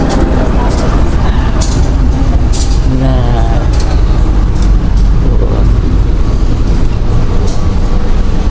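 A Menoreh New Generation passenger train on the Semarang–Jakarta route runs along with a loud, constant rumble and rattle of the carriages, broken by periodic clanks and a brief tonal whine.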